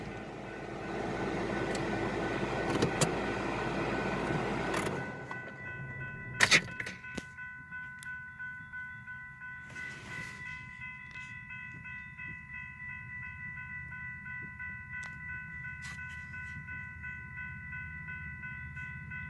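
A BNSF train draws near a crossing on the Staples Subdivision in Detroit Lakes, Minnesota, a loud rumble giving way to steady crossing-bell dings and a sustained tone, with a sharp clank partway through.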